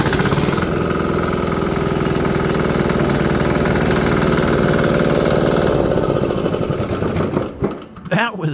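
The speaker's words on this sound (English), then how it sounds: "I want to see if the starter has enough power to start the engine at full compression." A small diesel engine on a bench, fitted to a golf cart and turned by a new electric starter, cranks and runs with a loud, steady knocking chug for several seconds before stopping abruptly.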